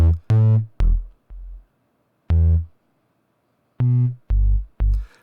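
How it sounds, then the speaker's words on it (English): A Tallin modular synth module plays short, separate low bass tones, about eight grumbly notes with buzzy harmonics and brief silences between them, alone and close. "I want to use Tallin mostly for nice grumbly low bass tones."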